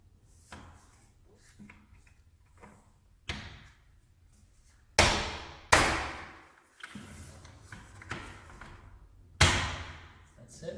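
A cordless faux wood blind on an outside mount snaps into its mounting bracket, giving several sharp, loud clacks and thumps spaced irregularly, nearby, between quieter handling noises and a voice talking.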